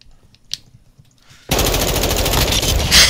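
A shotgun blast in Call of Duty: Modern Warfare 2 bursts in suddenly after near silence. The loud, harsh roar carries on for more than a second.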